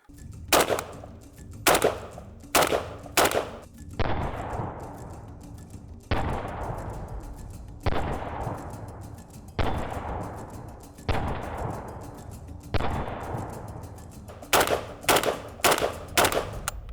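A Polish AK rifle in 7.62x39 fires quick clusters of sharp shots at the start and end, with single spaced shots between whose echoes ring out and decay.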